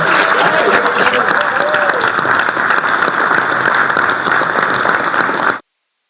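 An audience at a college signing day ceremony breaks into sustained applause, a dense wash of clapping that continues steadily for several seconds before cutting off, with a voice briefly audible over it at the start.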